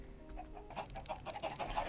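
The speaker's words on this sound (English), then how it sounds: "I am thinning the herd of chickens down here a little bit." Minecraft chickens clucking in a farm pen, a quick run of short soft clucks that starts partway in and repeats rapidly, faint and close with no talk.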